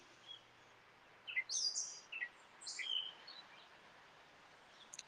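Birds sing and chirp outdoors in Connecticut, near a sanctuary-like backyard, with a few scattered high calls and short bursts over a quiet background.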